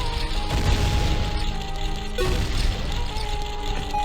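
A bomb blows up a Beamos in Zelda: Ocarina of Time, a loud boom near the start followed by a second crashing burst midway, with no speech.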